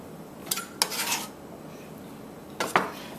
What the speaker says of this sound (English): We're just going to toss in all that lovely roasted peppers in there.